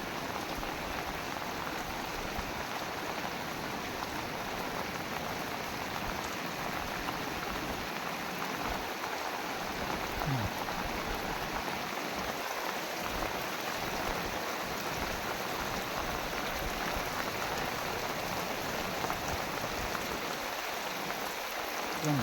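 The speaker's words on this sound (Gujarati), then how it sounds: "એટલો વરસાદ ચાલુ છે અત્યારે." Heavy rain pours steadily during a lightning storm, a dense, unbroken hiss of drops on surfaces lasting throughout at an even level, with no voices.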